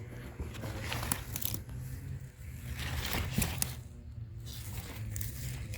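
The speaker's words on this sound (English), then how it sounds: "So I'm going to go ahead and cut that from the base." A large flowering kale plant in a 20-gallon grow bag being cut at its base, giving quiet crunching, crinkling and snapping of thick stems and leaves, close up and low in level with no talk.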